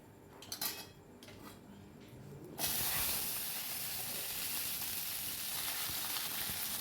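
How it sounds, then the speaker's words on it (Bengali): Cumin seeds and bay leaf dropped into hot oil, some clinks of a utensil against the pan, then a sudden loud, steady hissing sizzle that carries on alone. "এর মধ্যে এখন একটু জিরে আর একটু তেজপাতা ফোড়ন দিয়ে দেবো।"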